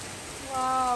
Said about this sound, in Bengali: অনেক বৃষ্টি আইতেছে অনেক বৃষ্টি পড়তেছে